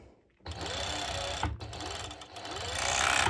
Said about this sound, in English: I'm going to serge the sides